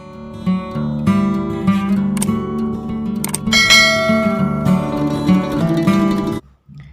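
A ringing bell chime plays as a notification sound effect during a milk ball snack recipe, with sustained bright bell tones and several struck accents over about six seconds before cutting off abruptly.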